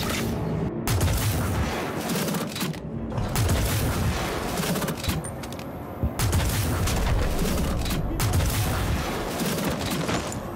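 Electron Bolt sniper rifle fire in the video game Star Citizen, heard as loud, repeated sharp electric blasts with booming tails in quick succession over continuous game background noise.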